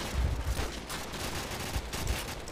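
Dense gunfire from the video game Call of Duty 4, rapid overlapping shots and bursts in a continuous loud barrage with no voices.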